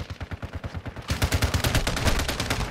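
Rapid bursts of automatic gunfire in a Call of Duty match on the Shipment map, loud and close, starting with quicker separated shots and turning into a dense rattling stream.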